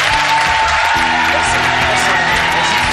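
A studio audience on a French television talk show applauds a team, steady dense clapping that holds at an even level for the whole stretch.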